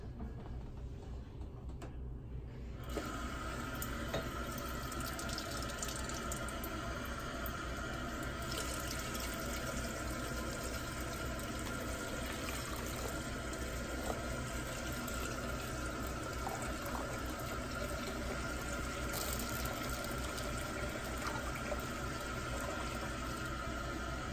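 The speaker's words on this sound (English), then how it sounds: "now we're just going to add some water halfway" Water runs steadily from a tap into a roast pan in a continuous rushing stream, starting after a brief quiet moment and filling the space at a constant level.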